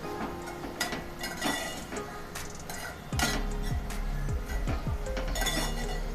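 A spoon or spatula clinks and scrapes against a pan while dry spices are stirred into minced chicken kheema, with steady metallic knocks and rattles at close range.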